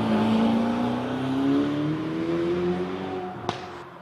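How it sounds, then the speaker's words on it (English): A Ferrari touring car climbs the Prescott hill climb course, its engine droning loudly and steadily with rising pitch as it accelerates, then fading slightly, with a sharp click near the end. "Nice touring Ferrari."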